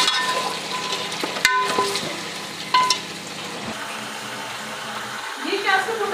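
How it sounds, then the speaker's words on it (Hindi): Chicken frying in a pan for Bombay biryani, a steady sizzle with occasional stirring clatters and scrapes, close up with a voice talking over it. "चिकन डालेंगे थोड़ा सा, इसको 5 मिनट तक फ्राई करेंगे।"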